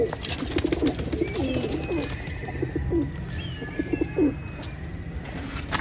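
Breeder pigeons in a home loft coo repeatedly in soft, rolling bursts, several birds overlapping, with faint chirps in the background.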